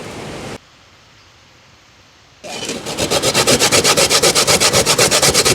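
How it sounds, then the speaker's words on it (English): Coconut being grated by hand for Jamaican bush-style pumpkin rice, a steady series of rhythmic rasping strokes that starts after a short quiet gap, loud and close, with no talking. "get the coconut grated."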